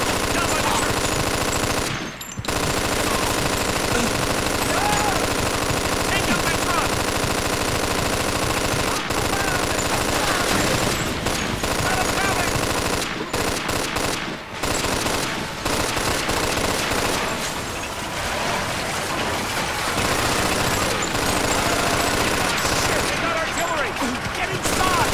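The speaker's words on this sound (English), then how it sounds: "I'm gonna get on that machine gun!" A mounted machine gun in Mafia 2 rattles almost continuously for about twenty-five seconds, loud and close, with scattered explosions and battle noise mixed in and occasional shouting voices underneath.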